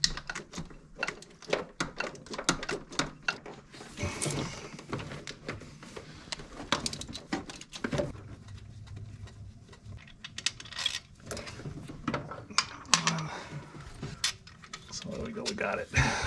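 Metal clinks, ratchet clicks and small scraping sounds come from taking two 12mm bolts off the mechanical fuel pump of a 1979 Toyota Corolla with a 2TC engine, close and irregular.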